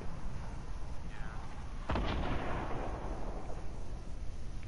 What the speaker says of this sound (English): Is that a homing rocket?